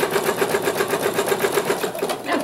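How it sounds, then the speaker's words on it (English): An embroidery machine stitches an outline on a mug rug, a fast steady mechanical whirr with rapid rhythmic needle pulses running throughout at close range. "we'll go ahead and stitch the line out since it's in the instructions"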